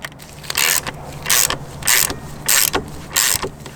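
A hand ratchet with a size 10 socket loosens the center stand bolts on a Suzuki V-Strom 800 motorcycle, giving five loud, evenly spaced bursts of rapid clicking up close, with no talking.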